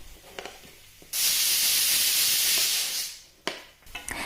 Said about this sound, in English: On a pan, I add in 2 tablespoons of coconut oil, a teaspoon of cumin seeds, chopped onions that I saute.